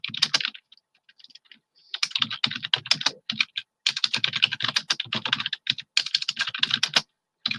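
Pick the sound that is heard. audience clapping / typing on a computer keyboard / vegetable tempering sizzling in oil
typing on a computer keyboard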